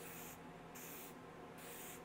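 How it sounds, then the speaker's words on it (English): An aerosol spray can hisses out paint for a DIY black rework in three steady bursts separated by short pauses, close and fairly quiet, with no talk. "Probably most of you know how to run an aerosol can."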